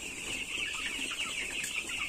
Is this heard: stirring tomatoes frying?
no